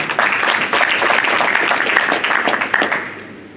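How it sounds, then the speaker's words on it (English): An audience at a boxing press conference in a stadium claps in a dense, steady burst of applause that fades at the end, with no voices standing out. "So a big hand of applause for Jason Quigley."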